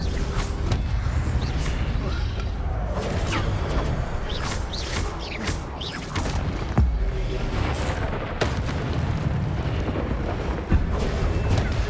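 Fire spell cast in the Hogwarts Legacy video game, a loud, dense roaring blast of flame with booming bursts and crackling flares sustained throughout, with a voice calling out over it.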